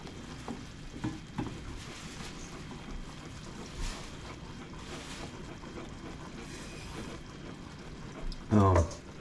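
Peanut brittle candy mixture stirred in a pot with steady back-and-forth strokes, a soft continuous scraping and bubbling hiss under faint voices, ending with one sharper knock against the pot.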